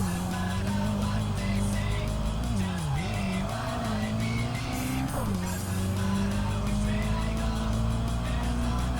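Car engine revving with a tire squeal as the handbrake is pulled into a drift in the racing video game Tokyo Xtreme Racer Drift 2, a loud steady engine drone whose pitch dips and rises through the slide, with faint talking.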